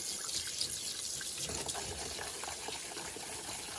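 Tap water running steadily into a sink while dishes are washed and rinsed, a continuous faint splashing stream.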